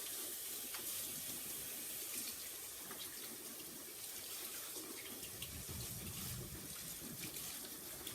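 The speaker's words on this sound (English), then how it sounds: "Just wash my hands." A tap runs steadily as hands are washed under it during a resin clock-coating project, a continuous broadband rush of water lasting several seconds with faint splashes and no talk.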